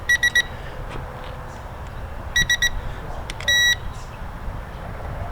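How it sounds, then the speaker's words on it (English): A budget camera drone, an SG906 Pro or Hubsan Zino, gives off electronic beeps in quick bursts of three or four short tones, followed by one longer steady beep, over a low outdoor rumble. "at least we stopped it from beeping."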